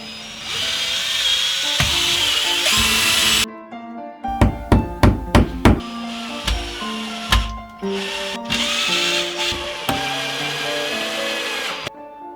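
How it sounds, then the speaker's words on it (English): An electric drill bores a hole into a wall in a dressing room, running in a long whining burst, then in a series of short rapid pulses, then in more sustained runs with brief pauses between them. "Let's get drilling."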